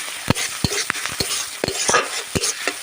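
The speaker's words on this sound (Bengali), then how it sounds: "এটাকেও ভালো করে আমি একটু কষিয়ে নেবো মশলাটাকে।" Ginger-garlic paste fried and stirred in a pan, with a soft sizzle under a run of sharp, close utensil scrapes and knocks coming every fraction of a second.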